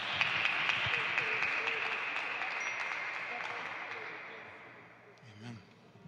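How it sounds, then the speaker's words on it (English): A church congregation at a vigil Mass claps in a round of applause, a sustained wash of hands that stays fairly even, then tapers away toward the end. "let's give God another round of applause"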